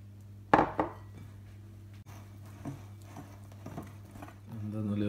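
Yogurt being worked into bhatura dough in a bowl gives soft, faint, irregular thuds and knocks, with one sharper knock near the start and quiet squelching stirring after.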